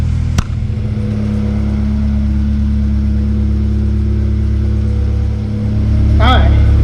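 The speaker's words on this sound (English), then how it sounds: "let the car run" A car runs at a steady idle inside a garage, a constant low hum and drone throughout, with a brief click near the start and a short rise in engine noise near the end.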